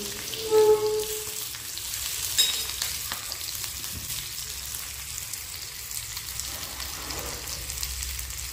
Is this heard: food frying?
yes